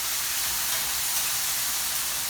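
Potatoes frying in bacon grease over medium heat, giving a steady, close, even sizzle and hiss that holds throughout with no pauses.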